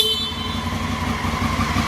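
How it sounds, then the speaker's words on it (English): Stock horn of a 2016 Honda Africa Twin motorcycle sounding steadily with the engine running, recorded up close in a garage; a continuous loud horn tone over engine rumble for about two seconds. "So this is the sound of the stock horn while it's running."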